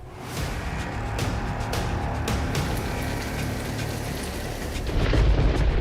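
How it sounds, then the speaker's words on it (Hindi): Heavy rain pours steadily with low rolling thunder rumbling throughout, growing louder near the end. "होने लगी है आफत की बारिश"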